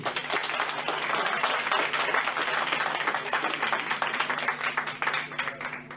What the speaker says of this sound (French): Je vous prie d'applaudir Claude Jambier.